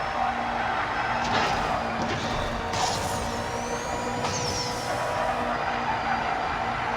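A race car in Need for Speed No Limits roars steadily through a Shadowfall live event, tires squealing in brief skids midway over the constant loud engine drone.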